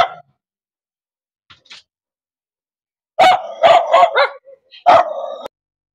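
A dog barks in a quick, loud cluster of several barks, then one more after a short pause, close by and clear against a quiet background.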